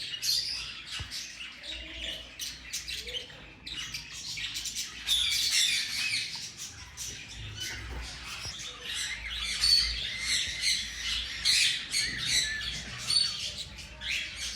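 Show-class rosellas and ringneck parrots at a bird exhibition squawk and chirp in a busy, overlapping chorus, with sharp repeated calls that rise and fall throughout and no talk.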